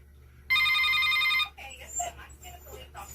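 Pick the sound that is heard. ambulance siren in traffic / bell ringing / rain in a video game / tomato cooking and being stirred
bell ringing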